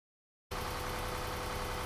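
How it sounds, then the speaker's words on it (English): A racing car in a video game, heard from outside the vehicle at the N24 endurance race: a steady, loud engine drone that starts abruptly and holds even, dense and unbroken, with no talk. "Very clearly an exterior engine."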